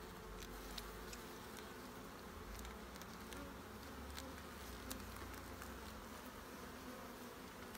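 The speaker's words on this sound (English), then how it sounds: "Lots of bees." Honey bees swarm a hive frame in a dense, continuous buzzing drone, close and steady throughout with no speech.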